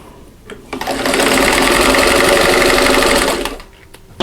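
A sewing machine stitches a Martha Washington star quilt block, running in one steady, loud burst of about three seconds that starts and stops cleanly, with no talk.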